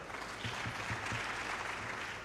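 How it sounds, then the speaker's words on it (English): An audience at a conference session applauds steadily throughout, a dense, sustained clapping with no speech over it. "I think that response deserves another round of applause."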